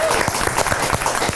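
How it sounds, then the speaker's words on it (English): Studio audience applause fills the stretch, a steady dense clatter of many hands clapping at close range with no voices over it, on a beach house reality show set. "Let's get a round of applause for that."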